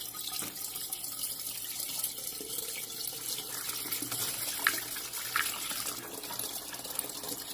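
Water pours steadily through a funnel into a jug for a phytoplankton culture, a continuous close splashing trickle with slight gurgles, fairly quiet and with no voices.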